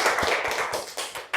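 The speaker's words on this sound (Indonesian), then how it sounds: "tepuk tangan dulu untuk kelompok satu" Applause for a student group in a university classroom teaching session, a short burst of scattered hand claps and taps that stays near and steady through the whole moment, with no talk over it.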